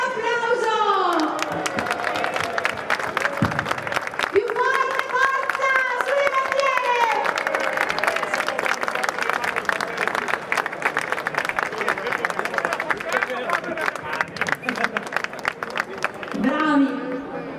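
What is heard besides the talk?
crowd of farmers applauding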